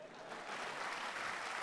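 Faint, steady applause from a church congregation during a sermon, a soft, even patter of many hands that continues through the whole stretch.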